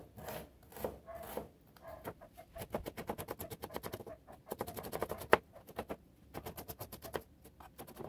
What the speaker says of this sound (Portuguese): E aqui eu já estou cortando a cebola em cubinhos pequenos.